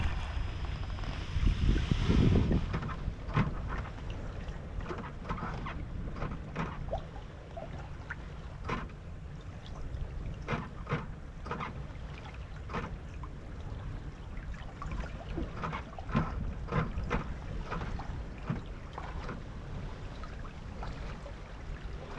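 Wind buffets the microphone over steady water and hull noise as a sailboat moves along under sail off the wild west coast of Quiberon, with no engine running and a brief louder gust near the start.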